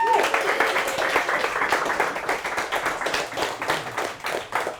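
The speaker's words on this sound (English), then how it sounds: "So I want to give a round of applause to you guys first." A team at a company huddle applauds, a dense patter of many hands clapping continuously at close range, with voices mixed into the clapping.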